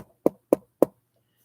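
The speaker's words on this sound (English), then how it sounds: "knocking" Three firm knocks land in an even rhythm, close and distinct with quiet between them and no talk.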